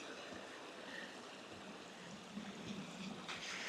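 Clear stream water at Ogden Clough bubbles and rushes steadily, a soft continuous wash of running water with slight swells, faint and unbroken with no talking.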